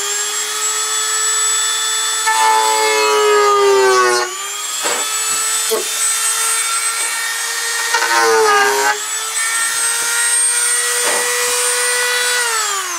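A small rotary tool enlarging a drilled pilot hole in a model airplane, whining steadily at high pitch, close and loud, with its speed dipping in several bursts as it bites into the material.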